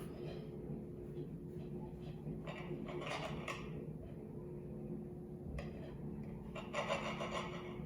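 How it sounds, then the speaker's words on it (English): Knife sawing through a peanut butter and jelly sandwich to halve it, a close, soft rasping scrape of blade through bread in a few short strokes. "you can take a knife and cut in half"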